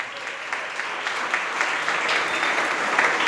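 Steady audience applause fills a hall during a Jain monk's sermon in Itarsi, a dense continuous patter of many hands that swells slightly toward the end, with no voices over it.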